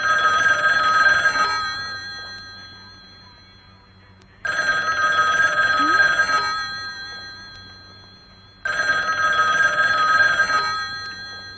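A telephone bell rings in three loud, bright bursts of about two seconds each, spaced roughly four seconds apart, with ringing tails fading between them and no talking.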